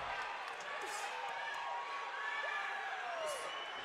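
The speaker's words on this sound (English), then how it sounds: "the crowd's starting to ooh and awe here at Legends Theater" A boxing crowd at Legends Theater reacts with a rising ooh and cheers during a bout, a broad, moderately loud murmur of voices swelling and fading with scattered shouts and whoops.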